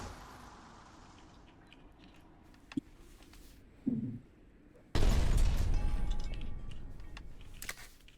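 Artillery fire in the war game Foxhole: a loud, sharp boom bursts in and a sustained rumbling blast follows, after a smaller thud and a faint click earlier, with no talk.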